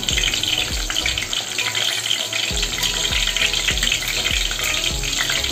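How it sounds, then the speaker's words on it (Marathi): Garlic frying in hot oil for a Maharashtrian wild-greens dish, a steady close sizzle with a row of soft rhythmic stirring scrapes running through it, no voices. "तेलामध्ये सुरुवातीला लसूण टाकलेले, थोडेसे भाजून घेऊया लसूण"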